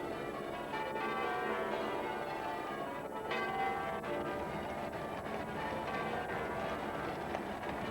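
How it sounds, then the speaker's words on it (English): Church bells of St. Margaret's, the Parliamentary Church opposite the Palace of Westminster, ring out in salute at the 1996 State Opening of Parliament, a steady wash of distant pealing over busy outdoor crowd ambience. "the bells of St. Margaret's, the Parliamentary Church, just opposite the palace by Westminster Abbey, ring out in salute"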